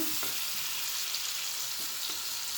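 Onions and green chilies sauté in a pan for egg gravy, with a loud, continuous, close frying sizzle and occasional soft stirring scrapes.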